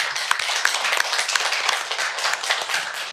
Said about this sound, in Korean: 박수 한번 치시죠.